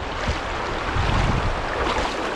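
Strong, high river water rushes in a continuous broadband roar, loud and close, with gusty wind buffeting the microphone and no talking.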